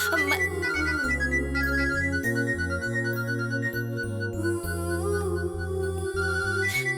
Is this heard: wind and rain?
no